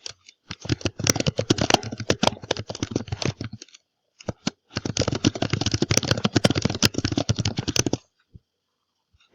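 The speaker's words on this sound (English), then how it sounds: "we need to type what's in step 2." Fast, steady typing on a computer keyboard, two long runs of dense clattering keystrokes separated by a brief pause with a couple of isolated taps, close and fairly loud with no voices.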